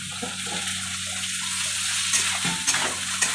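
Potato pieces sizzle and crackle in hot oil with fried onions in a pan, a close steady frying hiss with occasional stirring scrapes and pops.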